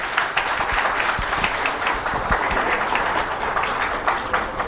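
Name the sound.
audience applause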